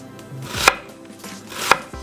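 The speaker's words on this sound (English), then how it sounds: "we're just going to cut that into some real thin slices" A knife slices half a white onion into thin pieces on a board, with two crisp chops about a second apart, another just starting at the end, and soft handling sounds between them.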